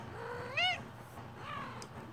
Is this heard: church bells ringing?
no